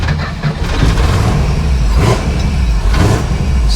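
Fuel-injected 440 V8 in a 1971 Plymouth Barracuda, heard from inside the car as a loud, steady engine roar with rising throttle surges and brief swells while driving.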